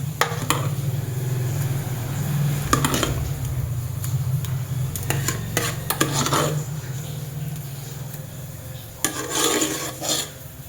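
Cooked alsa, a Kerala wedding-style dish, is moved into a vessel with scattered scraping and clinking of a utensil against a pot over a steady low hum, close and moderate, with no talk.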